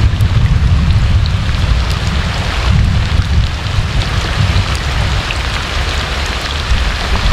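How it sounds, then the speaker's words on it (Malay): Heavy rain pours steadily, a dense, loud wash of drops drumming on surfaces with no break, no voices. "Hujan lebat tak akan berhenti dah."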